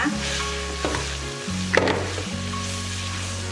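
Red chilies sizzling in hot oil in a pan for sambal terasi, a steady frying hiss with a few soft stirring knocks, close and alone with no talk.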